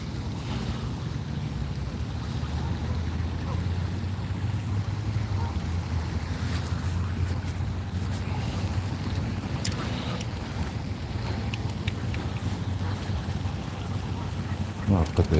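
Wind blows across a lake during trout fishing from a boat, a constant low rushing roar with a faint hum beneath, close to the microphone and steady throughout.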